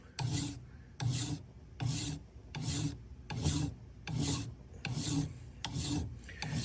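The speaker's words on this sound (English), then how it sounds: "I'm filing in this direction because I think it gives me the best edge, straight and flat edge as possible, using part of the file at an angle" A hand file rasps back and forth across a metal edge while shaping a waterfall clip, about ten steady, evenly spaced strokes, each a bright scraping burst, close and alone with no talking.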